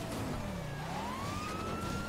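A police car siren in the video game GTA 5 wails steadily, its pitch sweeping slowly up and down, fairly quiet under a constant dense background.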